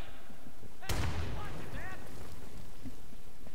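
In the video game Insurgency, a heavy grenade blast bursts out sharply and loud, its rumbling boom decaying over about a second amid faint background noise, with a voice speaking faintly around it.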